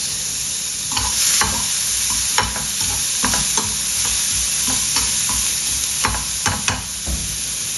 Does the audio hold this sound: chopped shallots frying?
yes